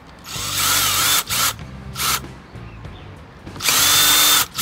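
A power drill whirs in a few bursts while removing screws from the cover of a Yamaha Blaster 200 ATV, loud and close, with short pauses between runs and no talking.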